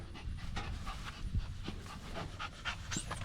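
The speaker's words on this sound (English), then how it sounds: "Dog." A dog pants quietly and rapidly near a kayak on a grassy creek bank, the soft rhythmic breaths steady and faint against outdoor background noise.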